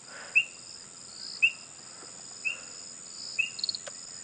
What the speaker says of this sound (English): I can hear a frog.